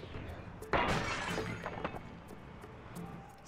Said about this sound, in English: It's a good thing those guards didn't hear that crashing sound.